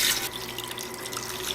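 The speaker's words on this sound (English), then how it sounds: "Put just enough water so everything is covered." Water pours from a tap into a heavy pot to cover chicken pieces, a brief steady splashing rush, close and fairly loud.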